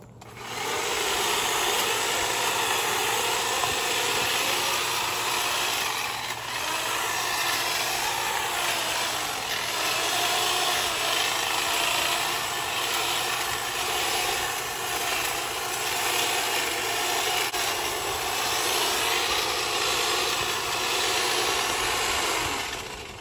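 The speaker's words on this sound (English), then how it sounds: "It's the Black & Decker weed cutter." A Black & Decker multi-purpose weed cutter runs steadily outdoors for a long stretch, giving a continuous, even motor whine with small shifts in load and no talk.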